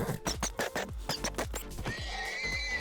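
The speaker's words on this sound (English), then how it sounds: "As we've got over here, a little horse friend." A horse in Minecraft gives a series of sharp, evenly paced snorting neighs, then a longer whinny, close and clear with no talking.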